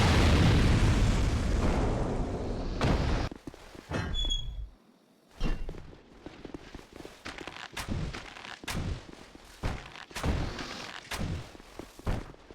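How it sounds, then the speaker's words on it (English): Explosive barrels blowing up in the game Dark Souls 2 Scholar edition: a loud rumbling blast with a long roaring tail, then a quieter stretch of scattered sharp thuds and bursts. "Scholar lets you shoot these explosive barrels from outside"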